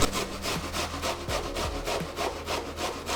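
Onion is rubbed against a grater in quick rhythmic rasping strokes, about a dozen even scrapes in a steady back-and-forth pattern, close and without talk.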